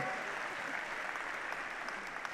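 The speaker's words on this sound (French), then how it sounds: "Un grand bravo, on peut les applaudir" An audience claps steadily through the whole moment, a dense, even patter of many hands at a performance and award event.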